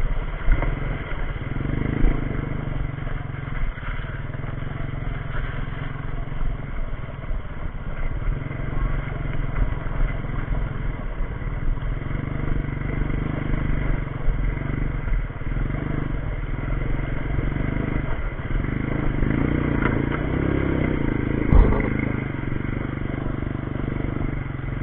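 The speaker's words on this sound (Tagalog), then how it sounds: "trail yung off-road lowered pa ang motor natin kaya medyo hindi siya makakabilis." A lowered off-road motorcycle rides along a trail, its mid-pitched engine droning steadily with a low rumble and occasional clatter, heard from the rider's position throughout.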